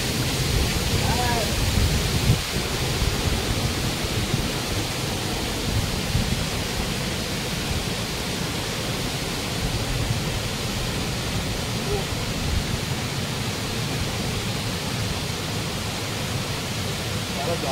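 Ladda waterfalls send out a steady, continuous rush of water that fills the scene evenly from start to finish, with faint voices and a brief knock near the start.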